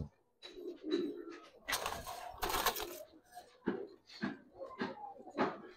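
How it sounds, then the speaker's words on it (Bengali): Giribaz pigeons at a seller's loft give soft, low cooing calls near at hand, repeated in short bursts, alongside cage rattles, scuffling and wing movement. "মানে অনেক চটপটা কবুতর, অনেক চটপটা।"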